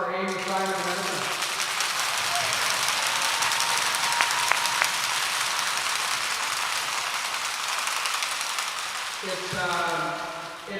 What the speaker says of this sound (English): How about another round of applause for Amy, Simon, and Edison?